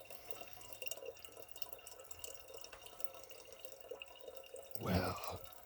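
Water is tipped out of a container, heard near the end as a short, close burst of pouring and splashing after a quiet, faintly dripping background.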